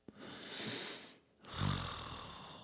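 A person imitates snoring with two rasping, vibrating snore sounds, the first a long breathy inhale and the second a louder, rougher rattling snort, close and alone with no talk.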